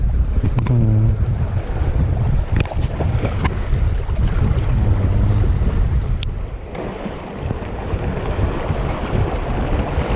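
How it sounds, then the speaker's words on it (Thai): Ocean waves wash and churn against a boat amid gusty wind buffeting the microphone, loud and continuous with no talking, while fishing for grouper. "โอ้โหคลื่นเยอะครับ"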